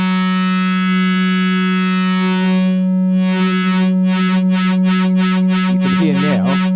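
An Arturia synthesizer tone run through a Metalizer effect: a sustained buzzy, metallic harmonic drone, then animated by an LFO into evenly repeating sweeping pulses about twice per second, growing busier toward the end.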